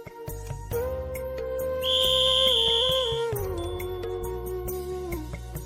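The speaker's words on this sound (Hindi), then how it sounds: "सीटी की आवाज सुनते ही" A whistle sounds over animated-story background music, rising into a bright sustained tone for a second or so before fading back under the steady musical bed.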